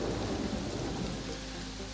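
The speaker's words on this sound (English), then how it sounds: "Huge thunderstorms" Heavy rain pours down steadily in a thunderstorm, a dense, loud hiss with low rumbling thunder underneath, continuous throughout with no voices.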